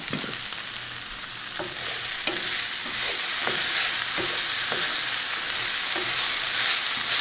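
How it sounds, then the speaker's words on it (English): Onion sizzling in a pan for shakshuka, a constant close hiss broken by repeated scraping clicks as it is stirred, with no talking. "I can tell by the way that onion sounds that it needs a stir."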